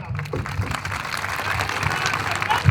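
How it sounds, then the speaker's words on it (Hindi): Audience applause at a public speech event in Bhimpur, a steady mass of clapping filling the clip at moderate level with crowd noise mixed in. "एक बार जोरदार तालियों के साथ स्वागत कीजिए।"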